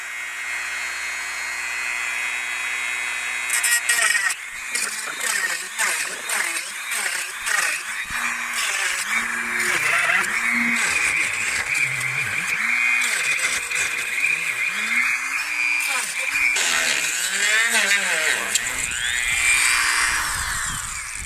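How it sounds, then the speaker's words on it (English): A Dremel rotary tool with a cutoff wheel cutting out a window mod, its high whine rising and falling in pitch as the wheel bites and eases off, loud and close throughout. "the tool of choice is the Dremel tool, of course, with the cutoff wheel attachment"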